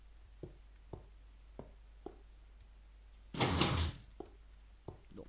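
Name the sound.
door opening or closing in Minecraft, video game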